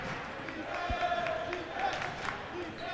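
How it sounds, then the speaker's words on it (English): Crowd noise swells in a college basketball arena during a Yeshiva Macs vs. Washington College Shoremen men's game, a steady murmur of cheering with a few brief shouts, under a commentator's voice. "that brought the crowd to life a little bit here in the center"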